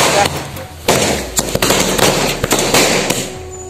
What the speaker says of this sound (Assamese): আমি এতিয়া বোমা মাৰিম বোমা এয়া ফেলাই দিলোঁ বোমা